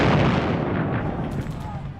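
World War II artillery fire near Caen booms in a heavy, rumbling blast that decays over about two seconds, with a faint crackle of further distant shots near the end.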